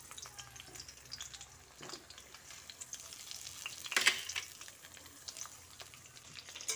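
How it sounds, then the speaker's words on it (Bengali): Pointed gourd (potol) pieces fry in oil with a little salt, a faint, low crackling sizzle with a few soft stirring knocks and one brief louder clatter near the middle. "পটলের মধ্যে অল্প করে নুন দিয়ে পটলটাকে ভেজে নিচ্ছি।"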